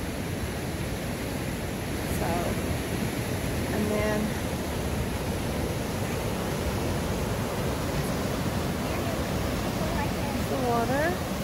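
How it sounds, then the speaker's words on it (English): The big Sandstone Falls in West Virginia roars in a continuous, loud, broadband wash of water that fills the whole stretch, while a person talks briefly over it. "that's the big falls out there, which is really loud"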